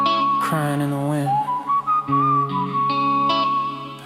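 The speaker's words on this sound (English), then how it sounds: "Can you hear that whistle cry?" A whistled melody carries through a dark West Coast hip-hop song, bending and sustaining over the beat and synth backing, loud and upfront in the mix.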